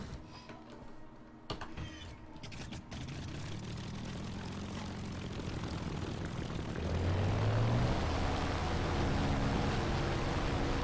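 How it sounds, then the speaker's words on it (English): Propeller aircraft engine droning in a World War II era flight game, a steady close hum that swells and rises in pitch toward the end, with no talking. "I'm gonna take out a plane because I want to get that store."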